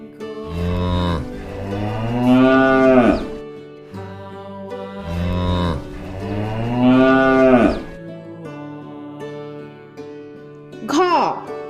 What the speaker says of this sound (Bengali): গরু বাছুর দাঁড়িয়ে আছে